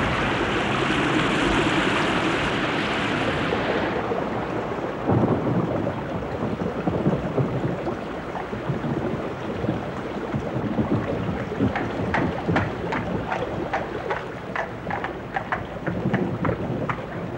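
A thunderstorm with heavy rain in hill country: a steady, dense roar of downpour and wind throughout, with deep rumbling swells and brief crackling bursts rising over the constant wash.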